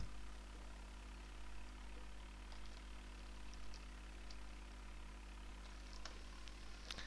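A tractor engine idles in Farming Simulator 2011, a steady, faint low drone that runs unbroken with small clicks on top.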